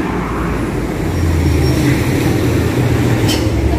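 Low rumbling ambience at a train station while people wait on a morning platform, a steady mechanical drone with a brief faint high tone near the end.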